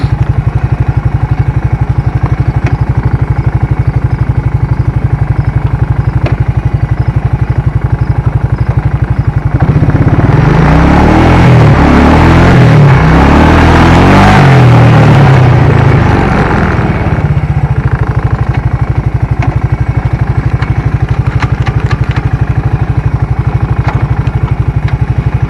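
A 1992 Suzuki Quadrunner 300 4WD ATV engine runs in low range with a loud, steady, close mechanical drone. In the middle the engine revs up into a rougher, rising clatter, then settles back to its idle-like hum.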